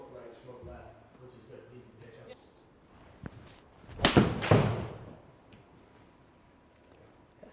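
A golf club striking the ball with a centered strike during a lie angle fitting session, one sharp impact followed by a rushing whoosh as the ball flies off, with people talking quietly before it.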